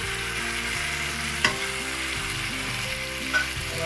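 Creamy carbonara sauce with spinach sizzling in a pan while being stirred, a steady frying hiss over a low hum, with a couple of sharp utensil clinks against the pan.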